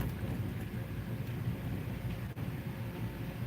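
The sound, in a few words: thunderstorm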